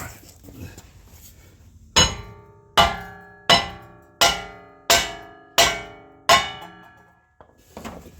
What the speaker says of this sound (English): Couple love taps just to break off the rust, and then I'll start getting it from the back side.